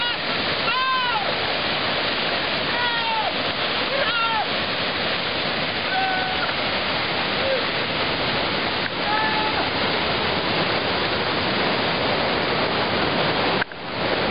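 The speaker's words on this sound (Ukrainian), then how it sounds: "Ось бачите, як можна насолоджуватися гірською прохолодною водицею." Cold mountain waterfall water rushes in a steady, loud broadband roar as a man splashes in it, with brief bird calls sounding faintly above the flow throughout.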